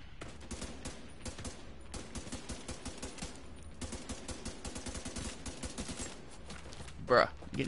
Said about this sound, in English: Shoot at me all you want, bruh.